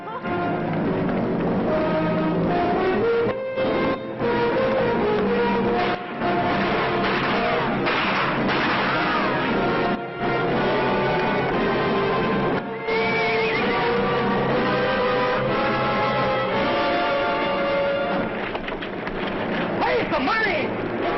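Horses neigh and whinny amid hoofbeats as riders mount and gallop off in a 1957 American western film, with loud whinnies rising over clip-clop and a continuous music score, people talking at times.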